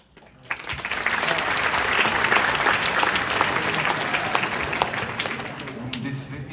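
A comedy show audience in a theatre bursts into loud, sustained applause and clapping that swells quickly and holds for several seconds, a dense crowd sound at close range.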